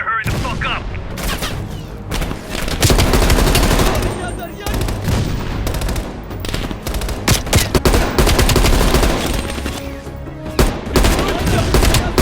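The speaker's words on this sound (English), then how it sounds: "Heavy MG on the ridge." Heavy machine gun fire from the video game Call of Duty Black Ops Cold War rattles in loud, repeated bursts with booming impacts, mixed with shouted voices and battle noise.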